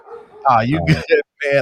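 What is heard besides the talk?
dog barking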